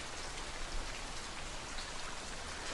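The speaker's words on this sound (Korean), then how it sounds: "빗소리가 잘 들릴 만큼" Steady rain falling continuously, a dense even hiss of raindrops pattering on surfaces, close and uniform with no voices or breaks.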